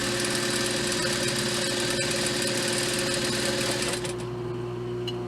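Sewing machine stitching the hem of a dress, a steady fast mechanical whir and hum running continuously up close, easing slightly near the end.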